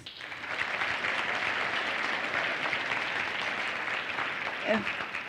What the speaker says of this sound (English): can we please give Professor Ntwasa a round of applause?